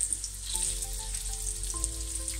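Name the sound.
meatballs frying and sizzling in a pan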